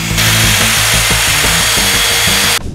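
A handheld circular saw cuts wooden posts to size for a wooden exercise wall, a loud steady whining roar close to the microphone that runs for nearly three seconds and then cuts off abruptly.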